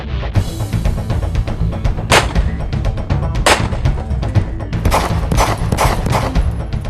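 Small handguns fire repeatedly at close range, a loud, dense run of sharp overlapping shots and thumps that goes on without a break, with a few bigger cracks standing out.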